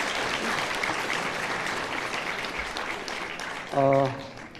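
Audience applause fills a hall at a public talk with the city mayor at BEXCO in Busan: a steady, dense wash of many hands clapping that holds throughout, with a brief voiced sound near the end.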